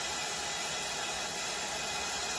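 Steady broadband hiss of steam pressure venting from a Burnham steam boiler that has no heat, continuous and fairly loud across the whole moment with no talk over it.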